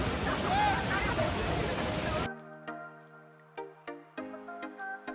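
Broadband rushing water from Taytay Falls fills the first two seconds, then cuts off abruptly to quieter tonal sounds with soft taps.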